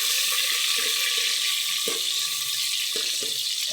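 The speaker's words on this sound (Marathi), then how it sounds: "आता तेल चांगलं गरम झाल्यानंतर त्यामध्ये कांदा टाकलेला आहे." Chopped onion dropped into well-heated oil for a Kolhapuri mutton rassa gives off a steady, loud broadband sizzle with a few soft clicks and pops, no talking.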